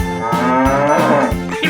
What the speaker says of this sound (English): bull